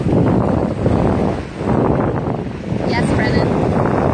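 Strong wind on a black sand beach in Hawaii buffets the microphone in loud, rough gusts that dip briefly and return, with a voice faintly present beneath the roar.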